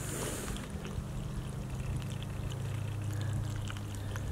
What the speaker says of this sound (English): Oh look, that tire was full of water.